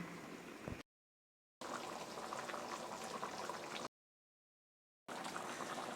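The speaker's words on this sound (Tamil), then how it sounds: "அரைச்ச தேங்காயும் இதில் சேர்த்து கொதிக்க விட்டுறோம்" Mutton tamarind curry with ground coconut boils in a pot, giving a close, busy bubbling and simmering in three stretches separated by abrupt silent gaps.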